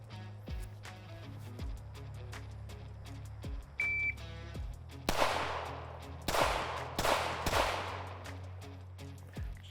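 Compact pistol fired one-handed, right hand, at an outdoor range: a string of sharp shots spaced a second or so apart, some sounding distant and others loud and close.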